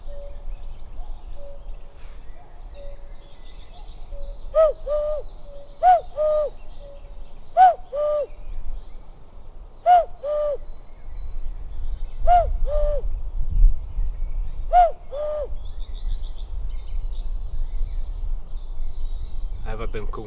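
A male cuckoo calls out in a country park with its repeated two-note call, about seven times at even intervals. The calls carry clearly over a quiet outdoor background with a low rumble.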